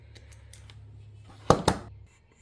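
Scissors snip artificial floral stems to length for a foam ball, two quick sharp cuts close together near the end after faint handling noises, close and alone.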